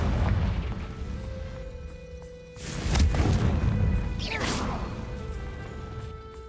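A Confringo fire spell bursts in Hogwarts Legacy, a loud explosive boom with a crackling, whooshing tail that swells midway and lingers under continuous game ambience.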